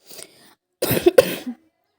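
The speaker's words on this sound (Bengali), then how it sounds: "বারবার কাশি হচ্ছে" A person in a home kitchen coughs close to the mic: a faint rasp, a short pause, then two harsh coughs in quick succession before silence.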